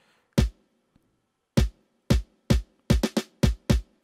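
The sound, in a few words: amapiano drum pattern with kick and snare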